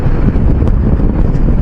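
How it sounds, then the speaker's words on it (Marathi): Strong wind buffets the microphone on a small mountain ghat road in Maharashtra during the monsoon, a loud, constant low rumble that fills the whole stretch with no voices. "वारा तर एकदम जोरदार आहे वरती जायला"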